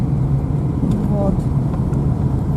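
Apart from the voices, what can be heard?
car driving out to the forest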